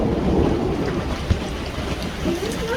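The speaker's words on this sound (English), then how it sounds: "Hail's getting way bigger." Hail falls hard during a thunderstorm in Italy, a dense continuous rattle and patter with a single sharp impact partway through, steady and fairly close, with faint voices.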